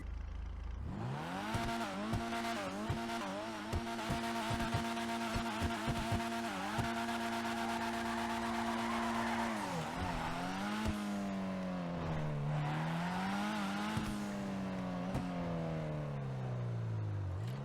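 A Karin Futo GTX sports car engine in GTA Online idles with a steady low hum, then revs up and down in sweeping rises and falls, with sharp clicking transients early on.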